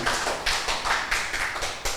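A church congregation claps along in a rhythmic pattern of sharp, fairly loud slaps, close and steady, with no talk over it.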